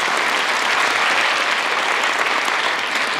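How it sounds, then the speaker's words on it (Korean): Sustained audience applause at a Korean unification rally's opening ceremony, dense steady clapping from a large crowd filling the whole stretch at even loudness. "I want to give all of you a round of applause."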